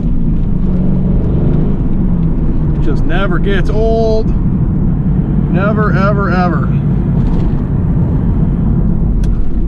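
2001 Pontiac Trans Am with a six-speed manual roaring at full throttle in a low gear, a loud steady engine drone filling the whole clip while someone talks excitedly over it from inside the car.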